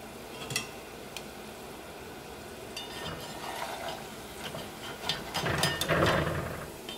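Peanuts fry in hot oil with a low, steady sizzle at a distance, broken by a few sharp clicks and scrapes and a louder burst of stirring near the end.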